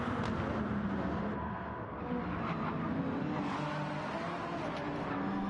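Race car engines roar continuously in a 24 Hours of Le Mans endurance racing video game, a steady loud drone with occasional revving swells and cars passing, no voices.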